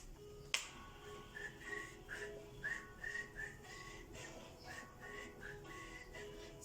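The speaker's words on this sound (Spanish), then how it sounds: "El silbar también es un sonido." A person whistling a series of short, clear notes, fairly faint, with a sharp snap or click near the start and small pauses between the phrases.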